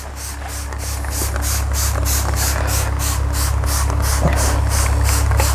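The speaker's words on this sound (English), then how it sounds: "Spraying the water." Water sprayed by hand onto a car's convertible fabric top, a steady hissing spray in pulsing bursts over a low constant rumble, with no talking.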